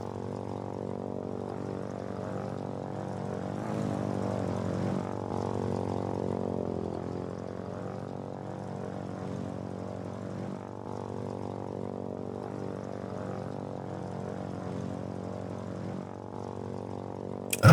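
A propeller airplane engine in the video game Foxhole drones steadily throughout, a low, even, faint hum with a slight swell in the middle and no talk.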